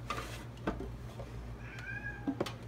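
A house cat indoors in a kitchen gives a short meow near the middle and a couple of faint calls, fairly close, over a low steady hum with a few light knocks.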